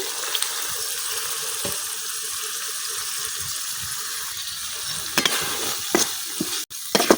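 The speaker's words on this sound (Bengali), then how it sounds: "মশলাটা কিন্তু কষা নিয়ে গেছে উপর দিয়ে একবারে তেল সেরা দিছে এখন দিয়ে দিলাম চিংড়ি মাছগুলো" Shrimp fry in oil with cooked-down spices in a village kitchen, a loud, close, continuous sizzle with occasional stirring clinks and scrapes, without talking.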